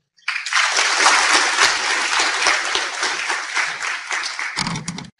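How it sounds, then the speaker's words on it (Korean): A seminar audience gives a presenter a welcoming round of applause, a dense, steady roar of many hands that holds for about four seconds before breaking off with a brief low thump. "큰 박수로 환영해 주십시오"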